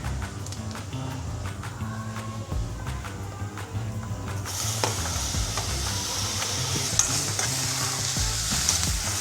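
Green chillies sizzle in a pan over medium-low flame for tomato rice while a spoon stirs and scrapes, the frying hiss brightening and growing louder midway, close and continuous with no talking.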